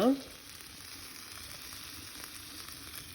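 Butter sizzling in a hot frying pan with browned meat and garlic, a steady close crackling fry that carries on evenly after a brief louder burst at the start.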